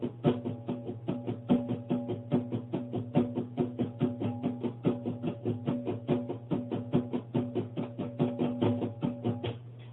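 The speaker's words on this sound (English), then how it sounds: "I want you to strum your guitar like this." Steady, even guitar strumming from a beginner lesson, with regular downstrokes ringing one after another at a moderate tempo, close and fairly loud, with no talking.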